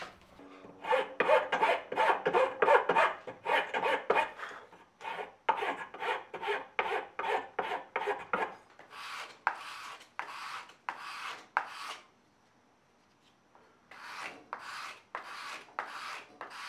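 Knife handle scales are hand-finished at the front face with a file or rasp, a rhythmic run of close scraping strokes in bursts with brief pauses, no talk.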